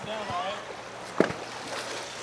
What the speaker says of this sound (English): that was a huge splash